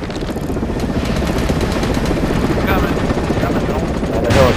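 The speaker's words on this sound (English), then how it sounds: "Got a helicopter above us." A helicopter hovers overhead in the video game MAG during a Domination battle defending Alyeska, its steady rotor drone running loud and continuous beneath dense gunfire, with a louder burst near the end.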